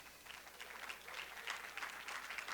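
Quiet applause from a church audience during a French-language sermon, a soft patter of clapping that swells in uneven waves and stays faint and distant throughout.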